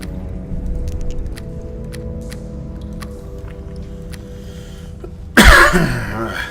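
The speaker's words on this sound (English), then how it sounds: "I still got a bit of a cough here." A man coughs once, sharp and close, after a stretch of quiet game background music with faint chimes.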